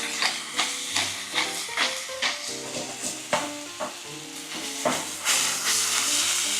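Ground turkey fries in olive oil in a pan with salt and pepper, giving a steady sizzle broken by repeated scraping stirs, close and moderately loud, with background music underneath.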